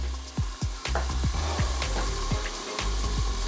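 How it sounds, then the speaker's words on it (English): Loud, steady sizzling and crackling of chicken frying in a hot pan, with repeated scraping knocks from stirring. "So we're kind of frying it at the bottom"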